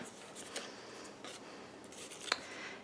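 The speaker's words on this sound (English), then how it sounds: "Now you are going to want to get your scissors out" Scissors snip through patterned craft paper for a gypsy wagon project, a few faint, quiet cuts spread across a few seconds, with one sharper snip near the end.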